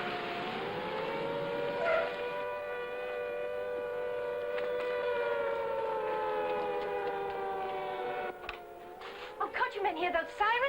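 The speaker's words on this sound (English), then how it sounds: "Hear those sirens?" Wartime air raid sirens wail a warning of V-1 buzz bomb attacks during the Second World War, a loud, steady layered tone that holds and then slowly bends downward. Other noises break in near the end.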